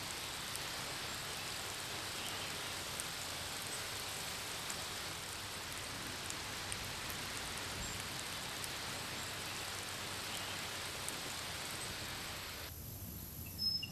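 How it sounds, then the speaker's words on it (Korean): Steady rain pours onto the ground and vegetation near a riverside willow during a drought-ending shower, a dense unbroken hiss throughout, with a few scattered drips near the end. "비가 대지를 적십니다"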